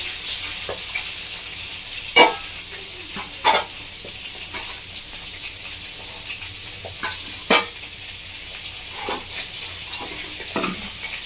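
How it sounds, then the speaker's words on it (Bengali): Mourola fish frying in a pan for a Bengali chorchori with eggplant and potato, a constant close sizzle broken by several sharp crackles and pops, with no talk. "এদিকে মাছটা ভাজা হচ্ছে"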